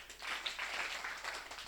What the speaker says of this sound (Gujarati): આપણે બધાને 3 તાળી પાડવાની ને.